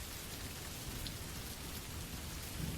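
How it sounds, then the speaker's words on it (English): Gentle, steady rain patters on a roof, a soft continuous hiss with faint scattered droplets, calm and even throughout with no voices. "The next room holds the sound of rain on a roof. Not storm rain, gentle rain."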